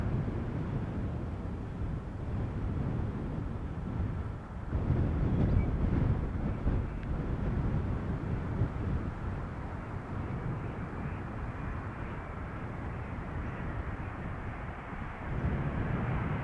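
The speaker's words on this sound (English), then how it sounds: "the Dreamliner from TUI, inbound from Curaçao" A TUI Boeing 787 Dreamliner arriving from Curaçao lands on runway 18R at Amsterdam Schiphol, giving a low, continuous rumble mixed with wind buffeting. It runs steadily with a brief swell near the middle and no talk.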